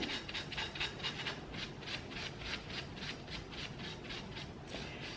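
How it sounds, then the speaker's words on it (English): A shop towel rubs white paint off a found piece so gold shows underneath, a steady repeated scrubbing swish up close, alone with no talk. "I'm going to rub it off"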